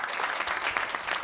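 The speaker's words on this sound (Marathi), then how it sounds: "अण्णा करता एकदा जोरदार टाळी." Audience applause at a Marathi devotional gathering, a brief burst of steady, dense clapping, moderately loud and close, with no voices.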